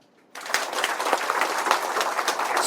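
A roomful of bank staff at a training session in Hyderabad break into sustained hand clapping after brief near-silence, a dense, even burst of applause that holds steady without any voices.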